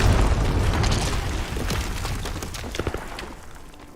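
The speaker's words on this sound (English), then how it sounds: "just waiting for the bomb to go off" A bomb goes off in a competitive shooter esports match, a loud booming blast with rumbling, crackling debris that slowly tails off over several seconds.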